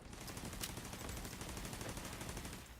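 Rapid automatic turret fire in The Division 2, a dense unbroken stream of sharp shots chipping away at a target, loud and close with no talk over it.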